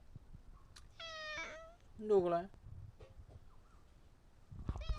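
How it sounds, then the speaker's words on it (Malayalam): A cat meows twice, first a short plaintive cry and then a louder, wavering one, close by in a home, with a person speaking softly around the calls. "ഇത് പാവം പൂച്ചയാണ് കേട്ടോ."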